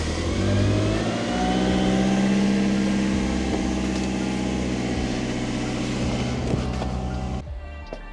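A 1997 Toyota Celica's 5S-FE engine turns over and settles into a steady, fairly high idle, running loud and close before cutting off at the end.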